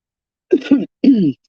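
A brief throat-clearing cough in two quick bursts, then a second rougher clear, close up and fairly loud against silence.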